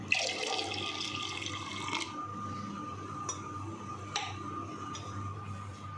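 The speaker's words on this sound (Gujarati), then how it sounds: "હવે આપણે તેમાં પાણી ઉમેરી દઈશું।" Water, about a litre, pours into a pani puri spice mix with a steady splashing rush for roughly two seconds, then settles into quieter trickles and light ticks over a low hum.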